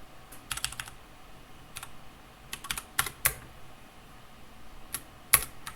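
Computer keyboard typing while code is edited, quick clustered bursts of close key clicks separated by short pauses, with a faint background hum.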